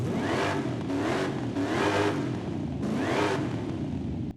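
Ford F-150 SVT Lightning pickup in Forza Horizon 5, its supercharged engine revving hard in three loud rising and falling surges, close and alone.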